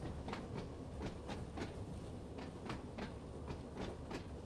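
Train braking in the Train Sim World 2 simulation on the Isle of Wight route, a low steady rumble of rolling wheels with regular rhythmic clicks from rail joints, quiet and continuous with no talk.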